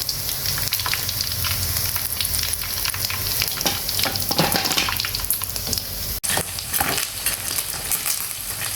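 Frog legs frying in hot oil give a steady, close crackling sizzle with bursts of bubbling and a brief stir or clink near the end, and no voices.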